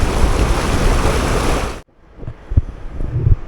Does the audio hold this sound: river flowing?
yes